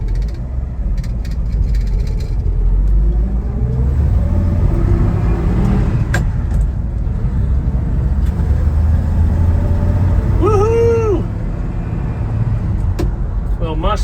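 A 1970 Ford F100 pickup truck's engine rumbles steadily up close while it drives and then brakes, with a short squeal near the end over the low mechanical drone.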